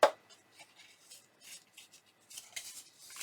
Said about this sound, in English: fold your score lines